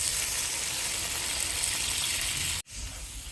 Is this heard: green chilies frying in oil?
yes